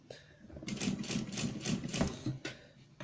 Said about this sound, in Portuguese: é só vocês irem costurando bem devagarinho